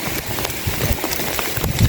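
Rain falling outdoors during catfish fishing with earthworm bait, a steady close patter of drops striking the surface with scattered louder splats, no voices over it.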